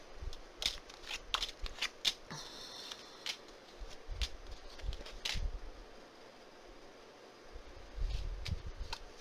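Tarot cards being shuffled by hand, with repeated quick riffling bursts and soft flutters, close and fairly quiet, with brief pauses between rounds.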